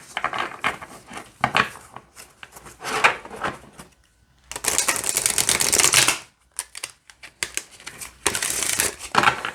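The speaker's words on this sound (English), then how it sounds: "let's see how this shuffles" A deck of oracle cards is shuffled by hand in bursts of crisp riffling and flapping, with short pauses between rounds, close and fairly quiet.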